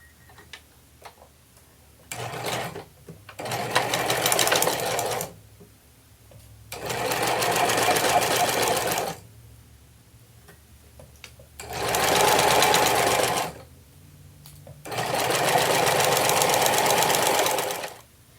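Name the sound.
sewing machine sewing a quilted tote shut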